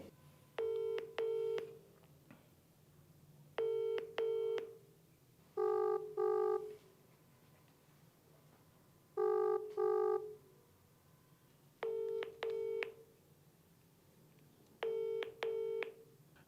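A telephone being dialed, with short paired bursts of touch-tone beeps repeating at intervals, clear and close over a faint low hum.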